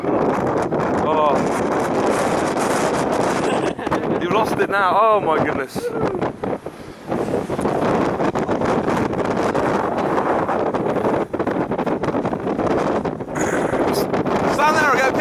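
Strong gusty wind batters the microphone at the Betancuria viewpoint on Fuerteventura, a constant roaring buffet while people exclaim over it.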